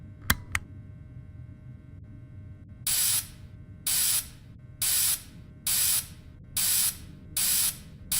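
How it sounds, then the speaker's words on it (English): Cleaning spray hissing onto a suit in a video game: after a couple of sharp clicks, six evenly spaced, loud bursts of aerosol spray, each about half a second, repeat in a steady rhythm over a low background hum. "So go ahead and start spraying the suit"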